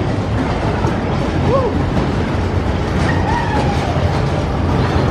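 Spook Express family roller coaster at Joyland, Great Yarmouth, rumbling steadily along its track with a continuous clattering roll, set against busy amusement park background noise.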